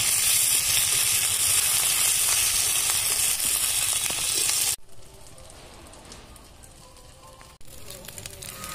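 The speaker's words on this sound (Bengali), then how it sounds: "পেঁয়াজটা একটু ভাজা হয়ে গেলে তারপরে দিলাম আদা বাটা" Onion and ginger paste fry in a pan with nigella seeds and chopped garlic, giving a loud, close, steady sizzle that drops abruptly to a quieter crackle partway through.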